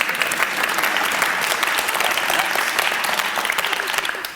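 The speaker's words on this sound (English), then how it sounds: "That's worth a round of applause" Conference audience at a socially responsible business event gives a round of applause, a loud crowd of clapping hands sustained evenly and tapering slightly at the end.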